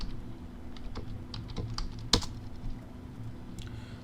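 Typing on a computer keyboard into a web browser, a run of light, close key clicks in an irregular rhythm with one louder clack midway, alone without talk.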